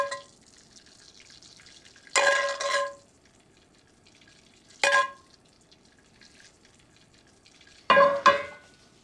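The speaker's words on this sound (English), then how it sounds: "Continue to reduce our red wine to a syrup" Red wine reduces in a hot, heavy skillet, giving three separate bursts of bubbling sizzle a few seconds apart. A faint background hush fills the gaps between them.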